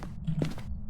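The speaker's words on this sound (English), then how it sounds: "I can hear its footsteps" Ghost footsteps in the horror video game Phasmophobia, a couple of soft, muffled thuds close together over a low steady hum, fairly faint and brief.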